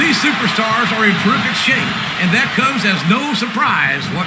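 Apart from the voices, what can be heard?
No everyday noises stand out.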